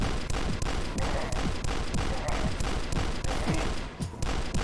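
Rapid, sustained automatic gunfire in a shooter video game, a fast steady stream of loud close shots with barely a pause.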